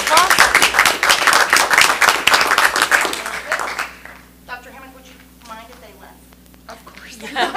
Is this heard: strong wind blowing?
no